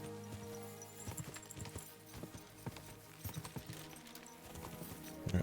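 Horse hooves clip-clopping in an irregular rhythm as a rider travels outside a castle in Kingdom Come: Deliverance II, moderately close, with game music or ambience layered beneath and a heavier thud near the end.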